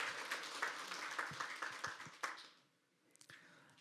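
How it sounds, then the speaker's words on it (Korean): Audience applause for a district mayor at a neighborhood community meeting, a modest, fairly quiet patter of clapping that dies away, followed by a few scattered claps. "큰 박수 부탁드리겠습니다."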